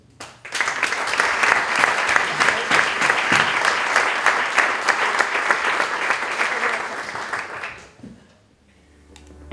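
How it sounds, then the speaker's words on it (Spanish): An audience at a Caja Rural de Extremadura academic excellence scholarship ceremony gives a strong round of applause that starts abruptly, stays loud and dense for about seven seconds, then dies away into near quiet. "quiero daros un fuerte aplauso a vosotros y un fuerte aplauso a vuestra familia"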